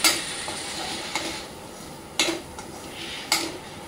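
A spoon scrapes and clanks against a steel pan while Malvani masala is sautéed, with a few sharp metallic knocks over a soft sizzle and no talking.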